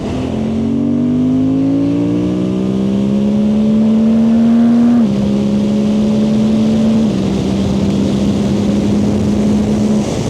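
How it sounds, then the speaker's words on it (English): A Suzuki GSX-8R motorcycle engine climbs in pitch and then drops at each gear change while riding, loud and close, running steadily the whole time with wind noise. "Downshifting, upshifting, just shifting through the gears."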